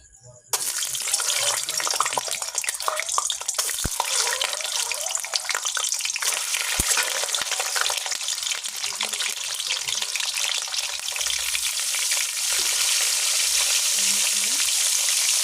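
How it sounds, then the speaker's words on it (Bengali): Food frying in hot oil with turmeric gives a loud, steady, close sizzle that starts abruptly and runs unbroken throughout, with faint kitchen clatter underneath. "হলুদটা দিয়ে দিলে তেলটা ছেটায় না এই যে লাল লাল করে ভেজে নিলাম"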